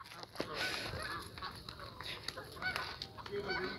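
Pet geese honk in short, scattered calls against a busy background, with a voice talking at times.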